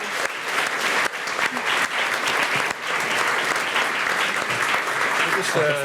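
An audience at an energy transition debate applauds in a sustained, dense round of clapping that fills the room, with voices mixed into the crowd.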